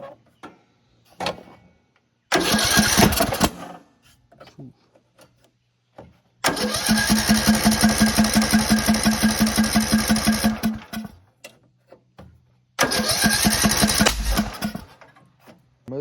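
Small tractor motor with a replaced flywheel, shown in three bursts: it starts and runs loud and close for a few seconds, then a longer steady running stretch, then a third run, with short gaps and light handling noise between.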